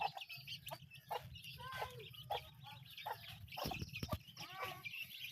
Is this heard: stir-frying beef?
no